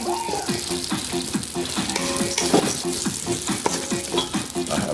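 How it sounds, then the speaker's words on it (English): Butter and sugar melting together in a pan on the fire, a steady close sizzle with gentle stirring throughout, while music with a repeating melodic pattern plays underneath. "I'm going to melt the butter and sugar together"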